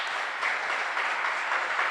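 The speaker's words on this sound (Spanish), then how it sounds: "¿Puede darle un buen aplauso a la palabra del Señor?" A church congregation bursts into steady applause, a dense wash of many hands clapping at an even level with no voices standing out.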